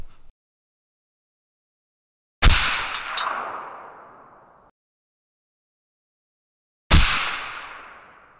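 Two sharp rifle shots fired from a PSR Atlas bipod, each a loud crack with a ringing metallic decay lasting about two seconds, separated by several seconds of silence.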